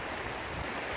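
A mountain river flows below the road near Danya between Pithoragarh and Almora, heard as a steady, full broadband rush of water, close and continuous with no talk.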